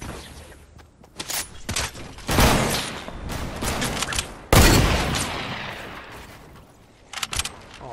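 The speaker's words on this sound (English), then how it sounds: "Oh, he got sniped." Sharp gunfire cracks from the video game Fortnite, including a loud sniper rifle shot, burst out in several distinct bangs with decaying tails over a busy game soundscape.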